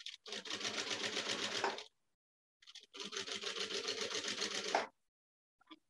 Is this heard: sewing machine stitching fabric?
yes